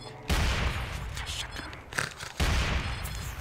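A shotgun fires in the video game Dark Sector, two heavy booming blasts roughly two seconds apart, each followed by a rumbling tail amid game noise.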